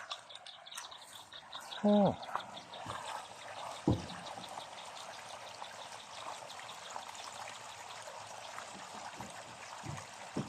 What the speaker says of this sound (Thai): น้ำไหลครับเนาะ